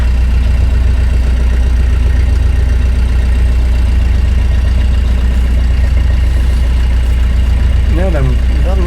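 A new engine in the boat Solar Cloud runs steadily on the Norfolk Broads, a loud, constant low chugging drone close by, with voices talking faintly underneath.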